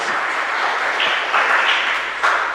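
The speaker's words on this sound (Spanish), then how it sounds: "pido un fuerte aplauso por ese sincero deseo de apoyar a este tipo de actividades" Congregation at a Holy Mass applauding, a steady dense wash of many hands clapping that holds evenly from start to finish, fairly loud and without speech.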